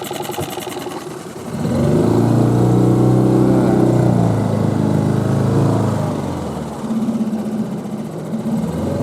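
A small outboard motor on a boat on a swift taiga river, running in reverse: the engine drones quietly, then swells into a loud steady mid-pitched hum, dips briefly and picks back up near the end.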